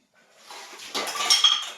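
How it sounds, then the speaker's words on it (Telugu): Plates, glasses and metal cooking pots used for chicken and fish clatter and clink while being scrubbed clean, a close, busy burst of ceramic and steel knocks. "ఇందాక చాయ్ తాగిన గ్లాసులు, టిఫిన్ తిన్న ప్లేట్లు, దీంట్లో చికెన్కు చేపలకి వాడిన గిన్నెలు అవి ఉంటే మొత్తం నీట్గా గడుగుతారు"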